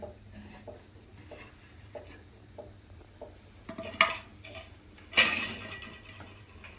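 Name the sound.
lid being taken off a pot of potato biryani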